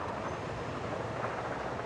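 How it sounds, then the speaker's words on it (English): A passenger train pulls away from a station in the SimCity city-building game, a steady broadband rumble of rolling rail cars held at an even, moderate level with no talk over it. "we've got a train leaving the station"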